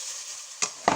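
Food for fried rice sizzling in a pan, a soft steady hiss with two brief louder crackling bursts near the end.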